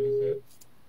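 A short, steady buzzing tone on a phone line sounds for about a third of a second and then cuts off, leaving faint line hiss.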